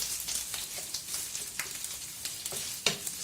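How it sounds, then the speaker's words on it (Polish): A sausage sizzles and crackles in hot oil in a pan, a steady frying hiss with scattered sharp pops. "Smażymy aż będzie podsmażona."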